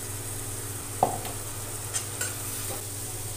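Spice masala of turmeric, red chilli and ground coriander roasting and being stirred in a pan for achari paneer, a steady close sizzle with a few sharp scrapes of the spoon against the metal.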